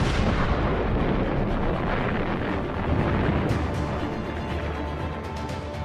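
A supernova, a star exploding in space, rendered as a loud, sustained, broadband roaring rumble that stays dense and steady throughout, with no voices.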